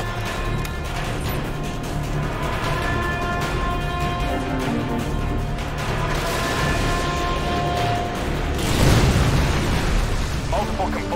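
AGM missile strikes in a Call of Duty game roll into a dense, continuous wall of blasts and crashing debris, loud and sustained, with a heavier burst swelling near the end over a steady low roar.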